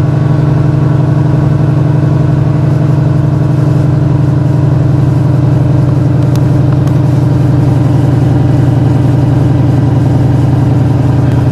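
A Chevrolet Caprice with an Oldsmobile engine idles after a cold start on a winter morning, a loud, steady low rumble with an even pulsing throb that runs unchanged throughout, with no talking.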